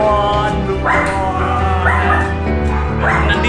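A dog gives several short yipping barks and whimpers close by, in a quick uneven series over a steady low hum.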